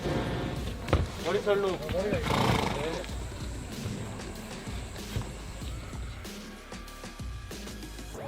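A horse neighs in a wavering whinny early on, amid people talking and some background bustle that continues afterward.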